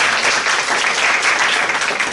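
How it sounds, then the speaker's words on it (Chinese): First-year students clap at a university mathematics department orientation, a dense, even round of applause from a roomful of people, fairly loud and continuous. "还要特别鼓掌啊？"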